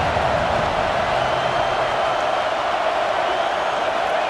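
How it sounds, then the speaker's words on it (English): A dense, continuous roar of a large stadium crowd at a Texas at Nebraska game, steady and loud throughout with no distinct voices standing out. "This crowd bringing the energy and noise early."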